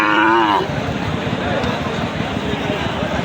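A small Sahiwal bull at a busy cattle market gives one short, low moo at the very start, then fades into steady crowd chatter and market bustle with people talking throughout.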